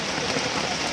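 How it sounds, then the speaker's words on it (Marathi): Steady night rain hisses across a broad wash of noise at Dadar flower market, Mumbai, dense and continuous for the whole short stretch, with no voices. "वरून पाऊस चालू आहे"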